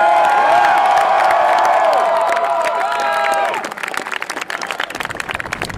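A large crowd at a university campus rally cheers and applauds loudly, with shouts and whoops over sustained clapping that thins out toward the end.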